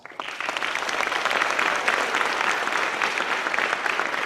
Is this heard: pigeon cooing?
no